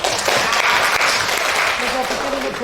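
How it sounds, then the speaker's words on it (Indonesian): Audience in a school staff session for a positive-culture program in Buleleng, Bali applauds steadily for a colleague, a dense continuous wash of clapping with voices mixed in underneath. "Tepuk tangan dulu untuk Bu Rini."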